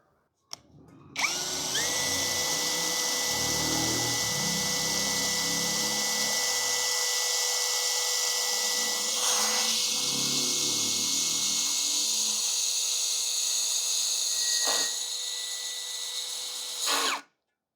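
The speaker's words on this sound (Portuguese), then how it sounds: "Vamos fazer uma perfuração agora no metalon, o parafuso 6 por 35 e é um parafuso autobrocante de cabeça número 8." A 21V brushless drill drives a 6 x 35 self-drilling screw into metal tubing, with a steady high whine that runs for about sixteen seconds, close and loud, with a faint grinding underneath before it stops abruptly.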